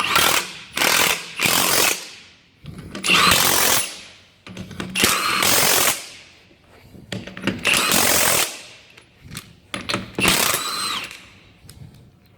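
A Milwaukee M18 impact wrench loosens nuts, firing in loud, close bursts of rapid hammering, about seven separate runs of one to two seconds each with short pauses between.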